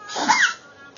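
A single loud sneeze, close by, with a sharp burst that tails off into quiet.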